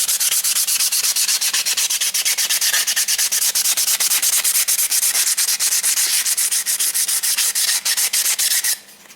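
Sandpaper is rubbed hard over the metal tank edge of a Kawasaki KLT 200C, a loud, continuous close-up rasp in quick back-and-forth strokes that stops just before the end.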